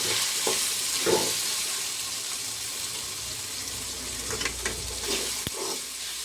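Eggplant curry with red chilli, salt, coriander powder and turmeric stirred in a frying pan, a steady close sizzle with a few scraping stirs, no voices.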